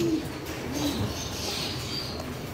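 A racing pigeon hen coos softly inside a loft, a faint, low murmuring call under a steady hiss of background room noise.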